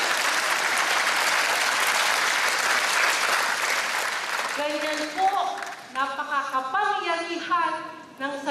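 A church congregation claps in a sustained burst of applause that fades after a few seconds as a voice begins singing or speaking over it.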